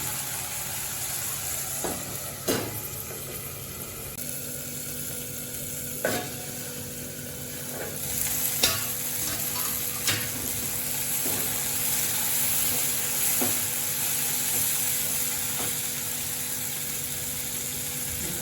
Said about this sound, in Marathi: आपण पुन्हा एकदा थोड्याशा शेंगा परतून घेऊ